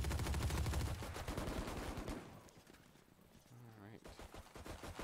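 Pistol gunfire in a video game esports match, rapid loud shots crackling in bursts at the start, then thinning out while voices talk over the quieter stretch before more shots return.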